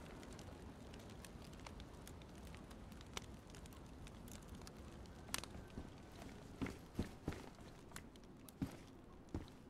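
A campfire burns in the video game DayZ with a soft steady crackle and hiss, broken later by several sharper pops and snaps at close range, without speech.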